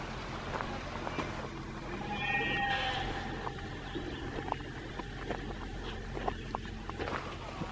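Sheep bleating in an outdoor zoo enclosure, a couple of faint wavering calls over steady low background rumble and scattered small knocks, somewhat distant and quiet.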